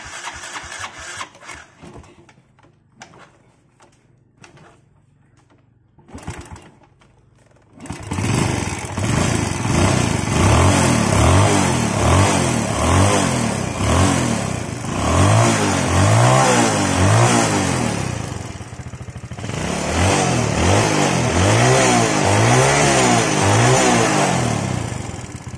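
A Yamaha Jupiter Z motorcycle with hard starting and a ticking noise kicks into life after a few faint clunks, then idles close and loud and revs up in repeated surges.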